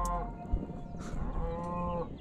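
A cow moos in a field below a hot air balloon, giving two drawn-out, fairly close moos over a steady low rumble.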